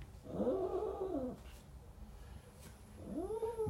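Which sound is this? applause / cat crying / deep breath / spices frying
cat crying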